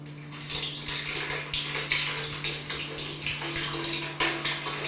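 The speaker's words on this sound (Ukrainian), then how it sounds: "Тут на відео навіть чути, як тече вода." Rainwater pouring into a Ternopil apartment during a nighttime storm, heard through a phone recording: a steady, continuous watery rush with splashing bursts and a constant low electrical hum, no voices.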